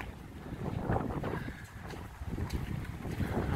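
Strong gusting wind buffets the microphone at an outdoor fair after a storm, a low rumbling roar rising and falling throughout with no talk.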